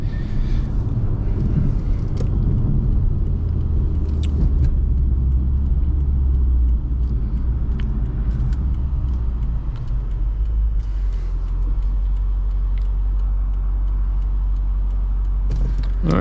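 A 2008 Lexus IS-F drives along a coastal highway, its engine giving a deep, continuous rumble heard from inside the cabin, steady and loud throughout with faint clicks and road noise.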